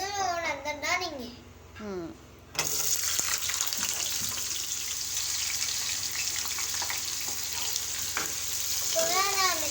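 Chopped bottle gourd sizzles loudly in hot oil in a home kitchen, a steady close frying hiss that starts a few seconds in and continues, with a voice heard at the start and again near the end.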